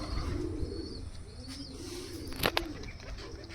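Pigeons coo softly in a loft among several birds, low repeated calls over steady background hiss, with a brief rustle or flap near the middle.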